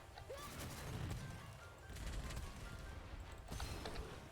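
Cannon fire in the video game Gunfire Reborn, heavy booming blasts recurring every second or two with crashing, mechanical game effects, loud and close, with no talking.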